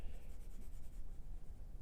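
Graphite pencil drawing on paper for a black-and-white sketch, a close, steady scratchy scraping of lead across the page in continuous strokes, with no voices.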